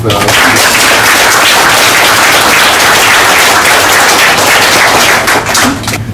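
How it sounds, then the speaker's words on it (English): Dense, sustained applause from a crowd at a mock trial program event, loud and continuous throughout, with a slight dip near the end. "I think we should give them a round of applause as well."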